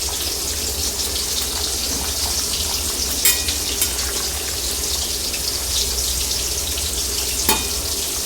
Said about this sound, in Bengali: সবার প্রথমে আমি দিয়ে দিচ্ছি কাঁচকলা ভাজা,